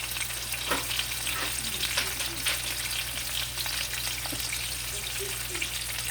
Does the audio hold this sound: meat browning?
yes